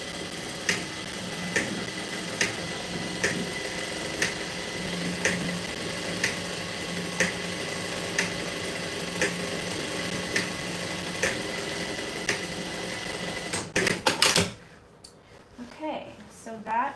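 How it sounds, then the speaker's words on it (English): Sewing machine stitching along a seam on worn jeans through thick layers, a steady mechanical hum with regular ticking pulses about every second, running continuously until it stops near the end, followed by quiet handling sounds. "I do try to actually stitch up onto the seam."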